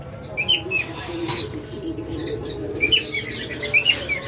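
A pair of olive yellow collar lovebirds gives brief, sharp chirps in short clusters over a low background murmur, close by in an indoor bird-sale setting.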